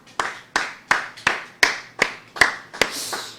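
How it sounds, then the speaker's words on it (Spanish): A church congregation claps in unison: eight sharp, evenly spaced claps in a slow steady rhythm, moderately close with a short room echo, and no talk. "usted quiere dar un aplauso a Cristo el Señor."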